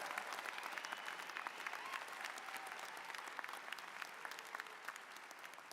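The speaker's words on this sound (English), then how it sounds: "let's give a big round of applause to the class of 2025" A crowd at the UC Davis spring 2025 MFA and doctoral degree ceremony applauds the graduating class with dense, sustained clapping at an even level, heard from some distance across a large space.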